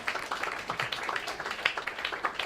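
Audience clapping at a Set4Success 2014 event, applauding parents, coaches and families; dense, steady applause from many hands fills the short stretch at moderate level, with faint voices mixed in.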